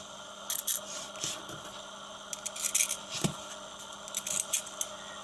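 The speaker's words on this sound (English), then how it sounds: "we're going to grab our 4 screws, okay, and we're going to place them into the designated screw holes" Small screws clink and scrape as they are picked up and handled during assembly of a RedBull RB7 model kit's steering servo, a series of light metallic ticks and brief rattles in short clusters, close and quiet, with no talk.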